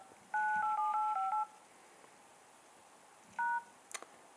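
Phone keypad buttons pressed in quick succession, each producing a clean dialing tone: a run of several tones over about a second, then one more isolated press a few seconds later, close and clear against a quiet background.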